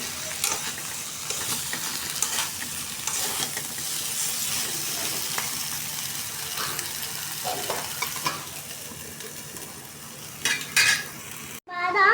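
Ground spices sizzle and crackle in a hot pan for several seconds while a curry masala is cooked down, with occasional stirring scrapes and utensil clinks, close and continuous.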